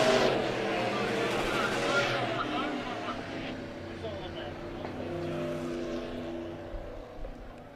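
Dirt track race cars roar around Monett Motor Speedway in a steady, loud engine drone that swells and fades as the pack moves, with a commentator talking over the noise throughout.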